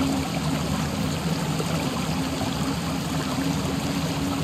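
Water in the fantasy game Dungeons and Dragons Online, a continuous rushing, trickling wash like a stream, steady and fairly close with no talking.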